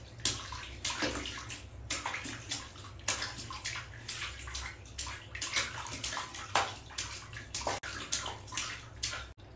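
A small child splashes and sloshes in bath water at home, with steady close watery wash and irregular splashes running throughout, no talk over it.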